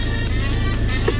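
A car engine that had a bad starter motor now runs with a steady, loud, continuous hum close by, with no voices over it.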